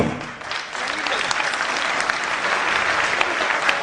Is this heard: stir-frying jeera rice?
no